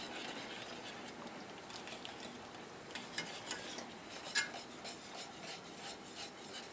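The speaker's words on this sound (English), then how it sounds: "let's just whisk this a little bit and we'll see how nice and creamy this sauce will be" Whisk stirring a creamy sauce for pasta with hot pepper jam meatballs, a steady scraping swirl close by with occasional light clinks against the pan, alone without talk.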